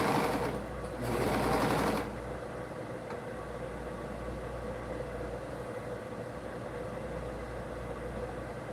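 A sewing machine topstitches a Bonnie dress by Little Ragamuffin in one fast, steady run of about a second, then stops, leaving only a faint low room hum.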